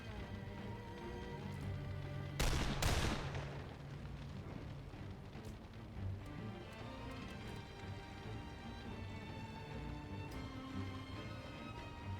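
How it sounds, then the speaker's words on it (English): Gunfire from pot shots in the Lamplighters League video game: one loud, sharp burst with a short echoing tail early on, then a low, steady in-game rumble and scattered faint clicks. "Taking pot shots until we can get into a better position."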